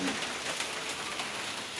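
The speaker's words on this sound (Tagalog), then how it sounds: "walang tigil ang ulan" Heavy, steady rain pours down in Laguna after a typhoon, a dense unbroken hiss on surfaces that holds at an even level throughout with no talk.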